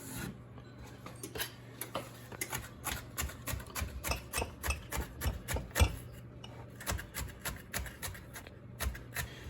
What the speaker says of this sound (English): So you can kind of like cut them in strips. And then you chop them up.